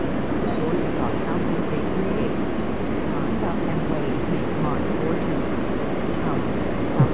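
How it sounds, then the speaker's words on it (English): Steady broadband jet engine roar from an airliner at takeoff power at Los Angeles International in Tower! 2011, a constant rumble with a thin high whine running throughout, no distinct changes, faint voice-like texture mixed underneath. "Southwest 838, cleared for takeoff."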